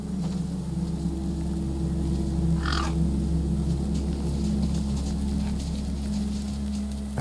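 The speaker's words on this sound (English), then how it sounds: "No way I was going to get between those birds and their feast." Crows calling over a feast in the game Beyond a Steel Sky, a short burst of caws rising briefly above a steady low mechanical hum and ambient drone.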